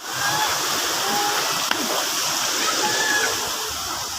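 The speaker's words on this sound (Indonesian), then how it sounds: "Kita lagi di air terjun Janji, Bakhara City" Janji waterfall at Bakkara, a steady broadband roar of falling and splashing water, loud and continuous throughout with no break.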